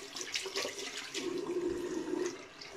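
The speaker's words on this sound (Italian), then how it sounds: "andiamo a metterci un po' di acqua calda all'interno" Hot water pours into a container to soften a hard shaving soap, a steady close splashing stream that stays fairly quiet and continuous without any talking.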